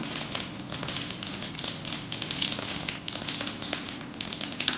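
Mustard seeds, dried chillies and asafoetida sputter in hot oil for a rasam tempering, making a dense, steady crackle and pop, close and with no talk.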